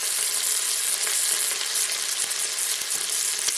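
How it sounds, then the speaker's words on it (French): Pieces of pork sizzle and crackle steadily as they fry in a hot pan, a dense continuous hiss with small pops, close and fairly loud, with no talking. "On attend que ça dore bien avant de remuer la viande, hein. Ça crépite."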